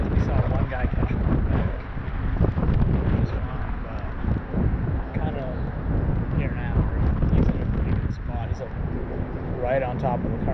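Wind buffets the microphone with a constant loud, low rumble during shad fishing on a river current, while people talk throughout.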